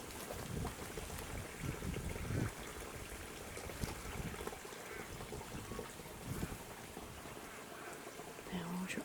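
Creek water runs around a gum tree in the Australian countryside, a continuous close trickling and burbling flow with small splashy accents, heard alone throughout.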